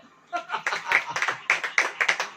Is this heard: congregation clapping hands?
yes